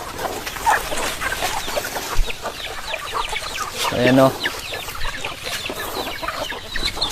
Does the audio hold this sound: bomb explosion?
no